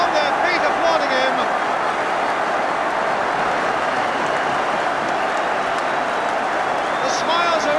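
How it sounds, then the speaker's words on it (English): Football crowd at an FA Cup semi-final between Arsenal and Orient roaring and applauding a goal, a continuous loud wash of cheering and clapping with a commentator's voice faintly over it. "On the Arsenal bench as well as in the Arsenal goal, they're on their feet applauding him."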